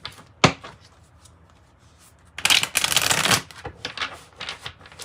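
Dream Keepers Tarot cards are shuffled in short bursts: a sharp snap, a few light riffles, then a dense two-second riffle followed by scattered softer flicks, close and alone without speech.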